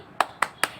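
Three sharp hand claps, evenly spaced and close by, ring out in a quiet classroom lesson, each a brief crisp slap.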